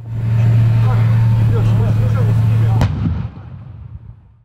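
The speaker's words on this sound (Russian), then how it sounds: "устроен показательный заезд с настоящей стрельбой" A heavy tank engine rumbles steadily during a demonstration run, then a single loud live-fire blast cracks out and the noise fades away, with a voice speaking.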